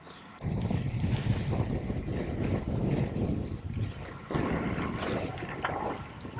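Steady, loud wind buffeting the microphone with a roaring rumble throughout, gusting stronger at moments, no voices.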